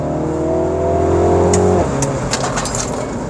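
A Mini Cooper JCW engine pulls hard under acceleration, a loud rising drone that drops sharply at a gear change near the two-second mark, then continues with clicks and road noise.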